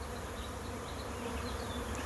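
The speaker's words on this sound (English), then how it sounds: "Seems to be a fairly sizable swarm." A sizable honey bee swarm moves into a trap box holding drawn comb, giving a steady, dense buzz of many wings that stays even and close throughout with no voices.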